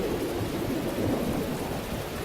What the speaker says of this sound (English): Rising above the pattering of the black rain, a baleful roar filled the air.